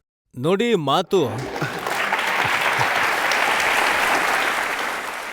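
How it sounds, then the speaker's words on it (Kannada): A studio audience on a courtroom-style interview show breaks into sustained, dense applause right after a brief spoken phrase, the clapping steady and full for several seconds. "ನೋಡಿ ಯಾರು ಇಲ್ಲಿ ಚಪ್ಪಾಳೆ ತಡ್ತಿದ್ದಾರೆ"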